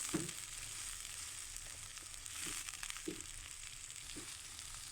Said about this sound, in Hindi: इसको 10 सेकंड के लिए मैं इसको हल्का सा फ्राई करूँगी